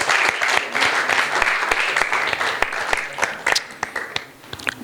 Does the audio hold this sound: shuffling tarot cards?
no